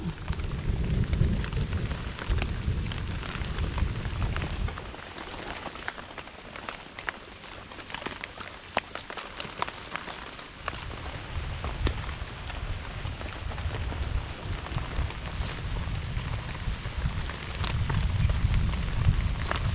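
Steady rain falls throughout, a dense hiss that swells and eases, with no voices.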